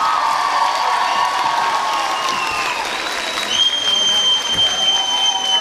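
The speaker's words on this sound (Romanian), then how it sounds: "Aplauze pentru ei!" Loud, sustained applause from a large crowd filling the room, with some cheering mixed in and a few tonal sounds above it.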